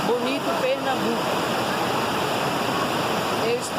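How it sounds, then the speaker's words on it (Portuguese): Heavy water pouring over the overflowing 75-metre Cerro Azul dam in Bonito, Pernambuco, a loud, continuous broadband rush like a waterfall, with faint voices briefly audible underneath. "Eu estou sabendo aqui que ela já transbordou, quer dizer, é água, né?"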